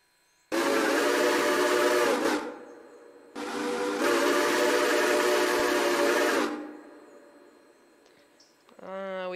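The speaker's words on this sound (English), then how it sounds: "These next two here, the COFG 6 chime low, are also built in the game here." A COFG 6-chime low steam train whistle from a Railroader video game mod, two long loud chord blasts, the first about two seconds and the second about three, followed by a fading tail and a brief metallic rattle.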